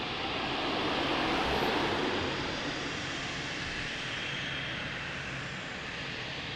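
An airplane engine roars steadily at Lisbon Airport, a broad, loud wash of sound that swells slightly near the start and then holds level throughout, with no voices.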